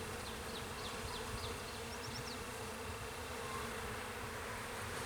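Honey bees buzzing steadily around an open hive frame during an inspection, a dense continuous drone close by with a few brief higher insect whines passing over it; no talking.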